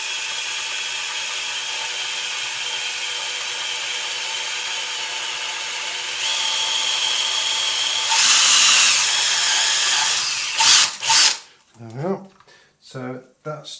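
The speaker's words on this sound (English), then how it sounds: "we can do is drill out the lug in the back box slightly larger" A power drill with a 4.5mm bit whines steadily for several seconds, growing louder as it bites into the lug of an electrical back box, then stops and a person starts speaking.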